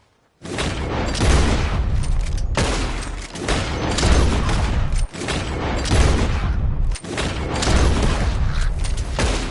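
Loud gunfire in Red Dead Redemption 2 while shooting at birds, coming as four long dense bursts of rapid shots separated by brief gaps, with no talking.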